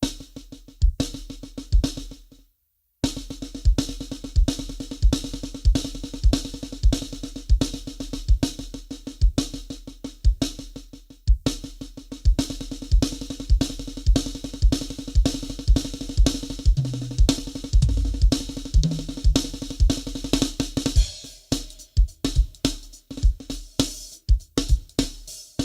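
Dense drum rudiment pattern on a kit, six-stroke rolls switching between right- and left-hand lead, with kick drum accents under rapid snare strokes, close and continuous with a brief gap near the start.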